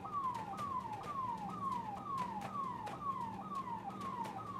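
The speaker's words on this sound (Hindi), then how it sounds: "एक एम्बुलेंस अभी अंदर गई और एक एम्बुलेंस अभी बाहर आ रही है" An ambulance siren wails at a Delhi shelter home, sweeping downward over and over in a regular rhythm of about nine cycles, steady and moderately distant with no talk.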